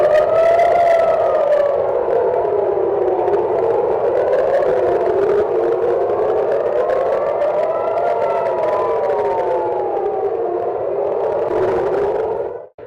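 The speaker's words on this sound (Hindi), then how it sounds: "सायरन बज रहे हैं।" Air raid sirens wail over Tel Aviv during a missile attack, a loud, continuous rising and falling tone that sustains for the whole stretch and then cuts off abruptly, with no talking.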